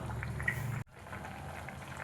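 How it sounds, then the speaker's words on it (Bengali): Egg curry sauce bubbling at a steady boil in a pan over raised gas flame, a dense continuous burble with a brief dropout partway through. "আঁচটা উঠিয়ে ফুটিয়ে নেব ভালোভাবে"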